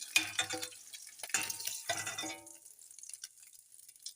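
Vadiyalu, sun-dried lentil dumplings, frying in hot oil in a pan, with crackling sizzle bursts and stirring scrapes early on that fade to a quieter hiss, no voices.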